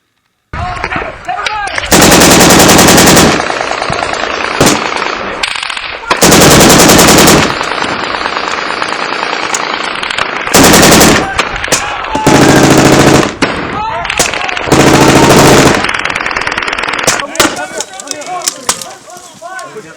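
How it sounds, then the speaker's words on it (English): Heavy machine-gun fire and rifle shots at a military compound, loud sustained bursts of several seconds each separated by scattered single shots and short volleys, with distant echo between bursts. "we're taking fire from 3 directions right now"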